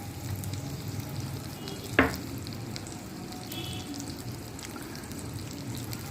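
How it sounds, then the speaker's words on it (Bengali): White sesame seeds and chopped green chilli sizzle with potatoes in a pan as they are stirred, a soft steady frying hiss with one sharp clink of the spoon partway through. "তো দেখো, তিলটা দিয়ে ভালো করে নাড়িয়ে নিলাম।"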